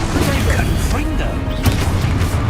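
Confringo blasting spell in Hogwarts Legacy, a loud booming blast with crashing impacts, overlaid by a voice shouting the spell name.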